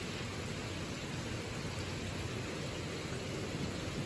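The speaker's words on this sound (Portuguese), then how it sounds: "Essa chuvinha aqui." Light summer rain falls steadily, a soft even hiss with no clear individual drops and no voices.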